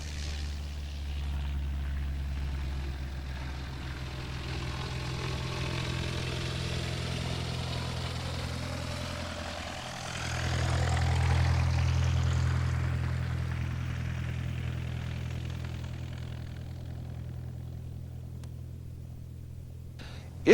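A light propeller airplane's engine drones steadily through a long, slow takeoff run, its low hum surging louder about halfway through and then holding a level roar, with no talk.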